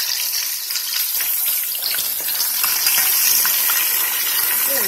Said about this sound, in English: There's three of them in there frying away.